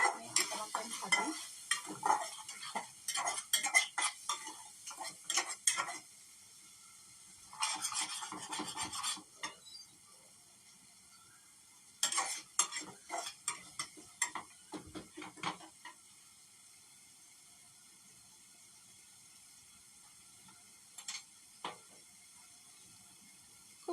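Salt, turmeric, chilli powder and cumin powder stirred and fried in a pan, with bursts of scraping and rasping against the metal coming in irregular runs and pauses between quieter stretches.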